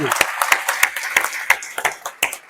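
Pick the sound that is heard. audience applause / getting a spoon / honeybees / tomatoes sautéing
audience applause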